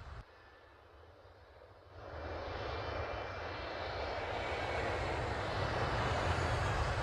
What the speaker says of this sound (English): The eight front engines roared to life